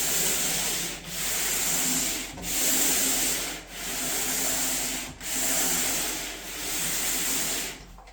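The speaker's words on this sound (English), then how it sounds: "we're going to sand any spackle spots" Spackle patches on a bathroom wall sanded smooth in steady, even back-and-forth strokes, each a soft gritty rasp with short pauses between, close and moderately quiet with no talking.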